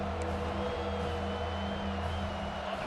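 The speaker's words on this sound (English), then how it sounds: "how nice is it to have the home crowd going absolutely bananas" Home crowd in the EA Sports College Football 26 video game, a steady, dense roar of cheering that holds at an even level throughout with no talk on top.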